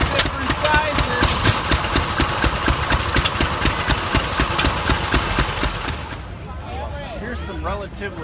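Hit-and-miss engines run at a machinery show at the Minnesota State Fair, with a steady, loud train of rapid chuffing exhaust pulses close by that eases somewhat near the end.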